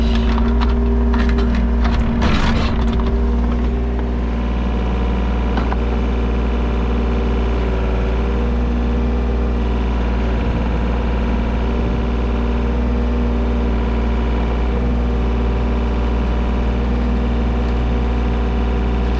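A mini excavator runs steadily at a low idle while its bucket levels and scrapes the ground, a continuous engine drone with a burst of scraping and crunching near the start, with no talking.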